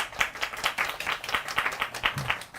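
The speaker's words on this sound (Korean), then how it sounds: "축하의 박수" A small crowd applauds at an award ceremony during a resource-recycling festival, a steady, rhythmic round of clapping heard fairly close and without talk.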